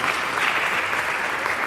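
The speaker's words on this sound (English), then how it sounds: "So you can clap for me, guys." Audience at a Bitcoin unconference in Kenya claps in a brief, steady burst of applause, fairly close and filling the room, with no voices over it.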